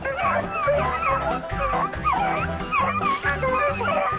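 A pack of hunting dogs on a rabbit hunt in Daviess County bay and yip excitedly while driving a rabbit, a fast, overlapping chorus of barks and whimpering cries that stays loud and close throughout.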